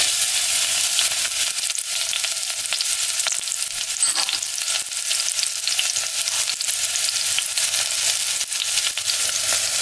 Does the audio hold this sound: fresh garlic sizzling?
yes